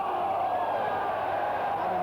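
Crowd at a 1986 Australian football match between Sturt and South, a loud continuous roar of yelling directed at the umpire, steady for the whole moment.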